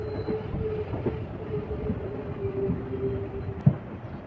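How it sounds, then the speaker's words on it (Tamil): Inside a train switching from the main line to a loop track as it enters Mettur Dam railway station, a low steady rumble of wheels on rails with faint clicks continues throughout. "நம்ம ட்ரெயின் இப்போது மெயின் ட்ராக்லேருந்து லூப் ட்ராக்குக்கு மாறி மேட்டூர் டேம் ரயில்வே ஸ்டேஷனுக்குள்ளே என்டர் ஆக போகுதுங்க."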